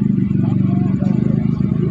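A Euro 186 motorcycle engine low on fuel being started, its steady low idle chugging and clattering continuously close by, loud throughout with a rhythmic pulse.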